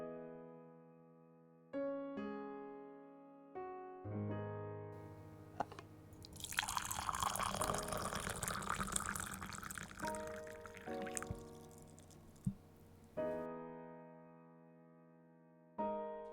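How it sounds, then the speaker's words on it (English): Hot water pours into a favorite mug holding instant coffee, a soft close liquid stream in the middle stretch between gentle sustained background music tones. "she put instant coffee into her favorite mug and poured in hot water."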